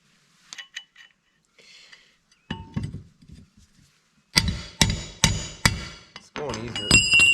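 A nut on the front wheel of an Ariens Zoom 54 XL snowblower is hammered hard, with light taps first and then a run of loud, sharp metallic blows at a steady rhythm, close by, followed by clinking.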